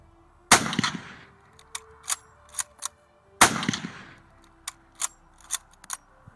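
Two sharp, loud rifle shots from a Mosin Nagant 91/30, about three seconds apart, each followed by echoing ring and the clicks and clacks of the bolt being worked in a quiet setting.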